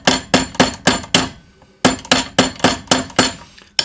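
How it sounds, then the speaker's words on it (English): Metal hollow anticlastic bangle struck with a hammer, sharp ringing blows in two quick bursts of about five and six evenly spaced hits, close and loud with a brief pause between. "when I hammer here, it'll roll the edges up a little bit more"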